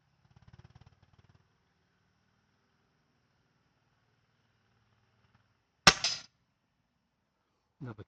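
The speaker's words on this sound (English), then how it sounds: "Another clean shot through the 8mm." A single sharp airgun shot cracks out loud and close, followed by a short clatter as the pellet passes through the 8mm hole in a practice target; a faint rumble sits earlier in the quiet.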